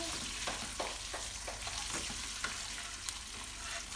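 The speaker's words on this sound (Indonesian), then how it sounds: "kita goreng yang lainnya" Crispy chicken pieces frying in hot oil, a dense continuous sizzle with crackling pops and occasional stirring scrapes, close and steady throughout.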